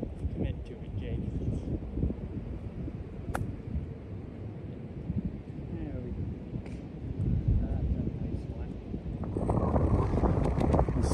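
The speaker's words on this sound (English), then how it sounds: "Man, it's windy up here today." Wind gusts rumble across the microphone on a golf course for several seconds, a continuous low roar that grows louder near the end, with faint voices underneath.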